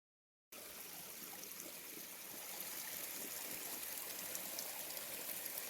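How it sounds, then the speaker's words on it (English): Creek water flows over rocks along the Appalachian Trail, a steady soft rushing and trickling that begins abruptly and swells slightly midway, with no voices. "I think we're walking in a creek right now"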